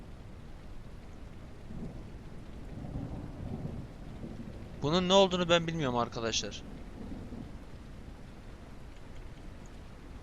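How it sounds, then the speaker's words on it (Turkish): A thunderstorm rumbles outside in the video game Sunset Motel: steady rain and low, rolling thunder run throughout at a moderate level, while someone speaks briefly over it partway through. "Yalnız var ya fırtına kopuyor dışarıda."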